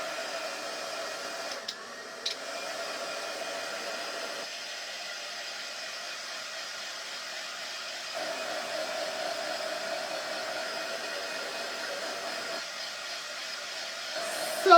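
A hair dryer blows steadily to dry a craft transfer, a close, continuous airy whir that holds for about fifteen seconds. Its pitch shifts slightly a few times, and a brief clatter comes at the end.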